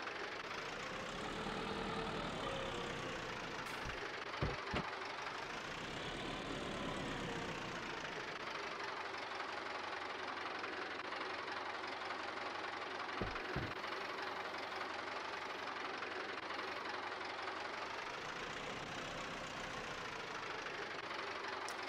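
A tractor engine fitted with a front loader idles in the farming game Farming Simulator 22, a steady knocking rumble that swells and eases in revs, with a few sharp clanks and no talking.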